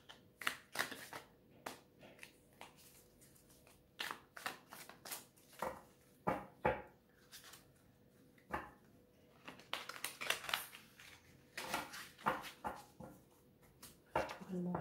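Tarot cards shuffled by hand in a series of crisp riffling and slapping bursts, some spaced apart and others clustered, with soft handling noise between them; a dog whimpers faintly in the background.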